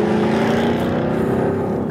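A 2015 Jaguar F-TYPE R Coupé in dynamic mode roars loudly and steadily, its engine and exhaust a close, sustained growl under acceleration.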